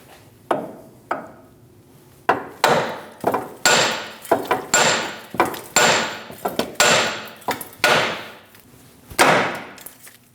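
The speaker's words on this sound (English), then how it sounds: "Tap that knuckle and release that upper ball joint." Hammer striking a steering knuckle on a 2001-2006 Chevrolet Silverado front suspension to free the upper ball joint, a series of about fifteen sharp metallic blows at an uneven rhythm, close and loud with brief ringing decays.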